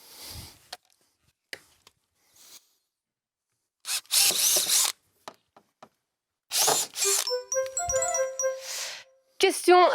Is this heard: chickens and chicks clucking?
no